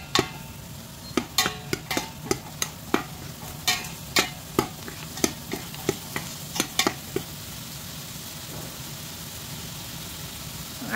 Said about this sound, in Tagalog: ilalagay na natin ang ating mushroom